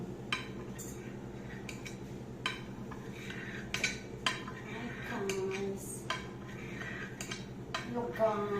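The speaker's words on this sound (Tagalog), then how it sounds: "I'm gonna mix the condensed and Nestle cream" Condensed milk and Nestle cream are mixed in a bowl for a Filipino buko gulaman dessert: a spoon clinks and scrapes irregularly against the bowl over a steady background hum.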